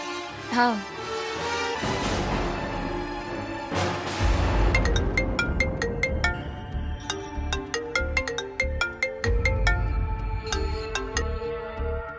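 A loud melodic phone ringtone plays, a bright repeating electronic tune of short plinking notes that keeps going for several seconds.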